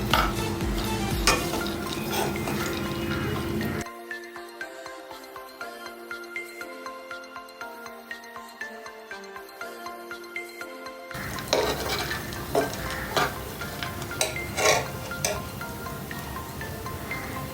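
Dry fruits stirred and cooking in a pan for date laddu, a steady scraping and sizzling with rhythmic stirring, broken midway by a stretch of background music before the pan noise returns.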